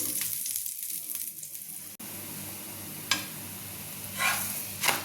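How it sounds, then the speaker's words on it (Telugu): A chapati sizzles on a pan as oil is added around its edges, giving a steady, fairly soft frying hiss with a few brief louder bursts. "చపాతి కాల్చేటప్పుడు ఇట్లా చుట్టూరా రౌండ్గా వేయాలి ఆయిల్"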